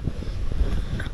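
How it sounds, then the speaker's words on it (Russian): Steady wind buffets the microphone on a riverbank beside the Seversky Donets in autumn, a loud continuous low rumble with gusting swells and no talk. "Ветер поднялся."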